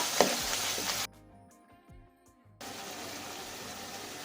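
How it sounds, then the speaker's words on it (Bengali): A turmeric spice mix fries and is stirred in a pan with a close, steady sizzle. The sizzle drops out for a moment midway, leaving faint knocks, then returns just as strong. "দেওয়ার পর ভালো করে মশলাটাকে মিক্স করে নিতে হবে"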